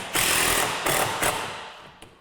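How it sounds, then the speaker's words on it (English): A power screwdriver drives screws into the end of a pocket door track, three short whirring bursts of the motor close up, the last fading into a brief tap. "now I'm putting in screws right at the end of my track so that they can't pop out"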